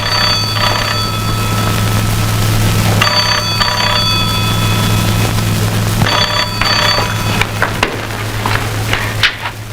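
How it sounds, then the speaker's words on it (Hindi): An old-style telephone bell rings in repeated bursts of about a second each, separated by short pauses, loud and close over a low steady hum. "मैं टेलीफोन सुनकर आती हूँ।"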